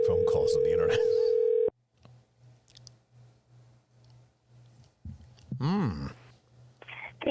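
A steady telephone dial tone sounds loud and alone for under two seconds while a call is placed over the internet, followed by quiet low pulsing and then a burst of speech.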